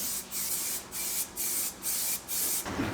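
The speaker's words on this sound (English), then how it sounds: "I'm putting 3 coats of primer down." A spray can lays primer onto a 2022 Toyota Tundra grille surround in five even bursts of hiss, each about half a second long with short gaps between, close and steady.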